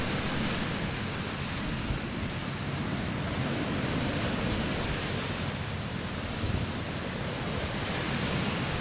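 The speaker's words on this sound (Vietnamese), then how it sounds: "Quá trời sóng các bạn ơi, sóng khủng khiếp luôn." Huge storm-driven sea waves, a constant broadband roar of surf pounding without pause, mixed with wind buffeting the microphone.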